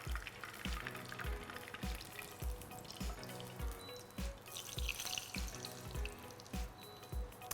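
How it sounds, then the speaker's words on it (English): Excess chicken fat drains from a hot pan, a quiet liquid trickle and spatter with faint sizzling, carried over a regular low thumping pulse that repeats throughout. "I'm just going to drain off some of this excess chicken fat"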